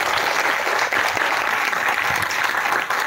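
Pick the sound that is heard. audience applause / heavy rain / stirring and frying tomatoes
audience applause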